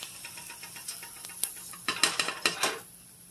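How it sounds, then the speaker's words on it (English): A utensil scrapes and clinks against a pan and plate while scrambled eggs are moved onto a plate in a vacation rental kitchen, light taps giving way to a quick burst of louder scraping near the end. "I'm going to transfer the eggs to my plate here."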